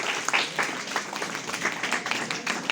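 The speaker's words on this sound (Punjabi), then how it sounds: "ਤੁਸੀਂ ਆਪਣੇ ਲਈ ਵੀ ਤਾੜੀ ਮਾਰੋ" An audience in a college hall at a National Youth Week event claps together in a steady, moderately loud round of applause with many overlapping individual claps.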